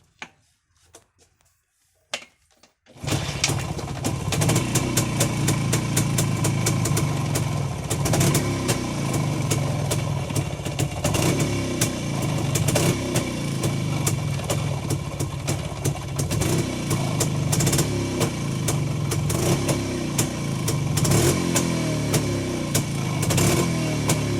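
After a few quiet clicks, a Jawa motorcycle engine fires up and settles into a steady, rapid idle, loud and close for the rest of the clip.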